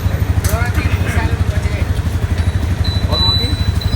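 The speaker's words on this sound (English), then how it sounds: "So he started his bike." Yamaha FZ25 motorcycle idling just after being started, a close, loud, rapid low thumping pulse that runs steadily, with brief voices and cheering over it.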